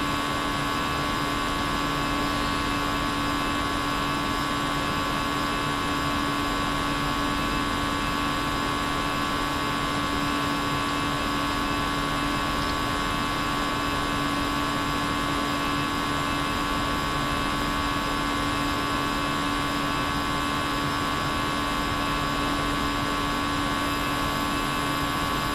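A JARDesign Airbus A320 in the X-Plane 11 flight simulator climbs through 5,000 feet after take-off, with a steady, even cockpit engine drone and hum that holds unchanged and alone for the whole stretch.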